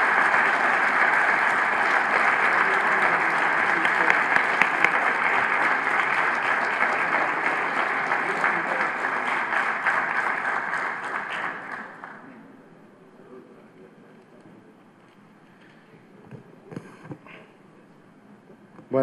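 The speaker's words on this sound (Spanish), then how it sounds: "un aplauso para los ganadores del concurso." An audience at a cultural conference applauds contest winners with loud, sustained clapping for about twelve seconds before it fades to a few scattered claps and faint room noise.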